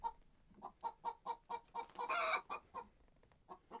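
Hens cluck nearby in a steady run of short, regular calls, with one longer squawk partway through.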